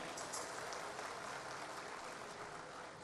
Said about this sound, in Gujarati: આ દરેક આર્ટિસ્ટો કલાકારોને એક વખત જોરદાર તાળીઓથી વધાવી લઈ